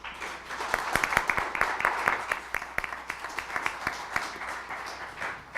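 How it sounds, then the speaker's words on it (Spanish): Sustained crowd applause at a panel event, dense overlapping claps, steady and fairly loud throughout, with a few sharper individual claps standing out. "les pido un aplauso para ellos"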